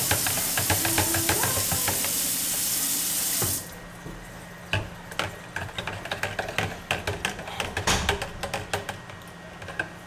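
Tap water runs into a pitcher for making Kool-Aid, a loud steady broadband rush that cuts off abruptly, followed by scattered clinks and handling knocks of the container.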